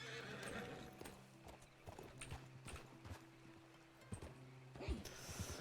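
Horse hooves clip-clopping and a whinny in the video game Red Dead Redemption 2 (RedM roleplay), faint and quiet, with scattered hoof thuds and a neigh near the end under light talk.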